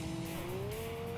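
Tires squealing as a car oversteers in the racing game TXR3, a short rising screech over a steady engine drone.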